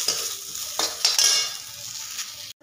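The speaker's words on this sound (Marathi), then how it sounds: "कांदा व्यवस्थित भाजून झालेला आहे" Onion roasting in a dry pan for spicy dhaba-style shev bhaji, a steady close sizzle and crackle with a few scraping strokes of a spatula, then the sound cuts off abruptly near the end.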